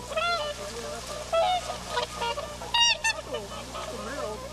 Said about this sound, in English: they feed the lake's swans and ducks using rice given by local farmers